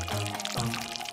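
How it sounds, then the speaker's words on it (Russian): Water pours into a dish in a brief continuous splashing stream, close and fairly loud, with no talking. "Теперь залей водой."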